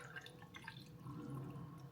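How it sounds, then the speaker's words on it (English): Milk pours steadily into a container, a continuous close liquid gurgle and trickle that deepens slightly as it fills. "And then pour in your milk."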